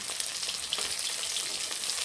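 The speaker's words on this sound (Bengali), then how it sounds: "ভাজা হচ্ছে বন্ধুরা মাছ ভাজা করছি" Fish frying in a pan gives a steady, loud sizzle with dense crackling spits throughout, heard close and with no voices.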